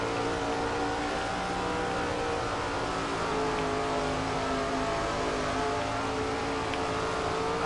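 A race car engine in SRX: The Game holds full throttle in a steady, loud, high-pitched drone that barely changes, with no break in power.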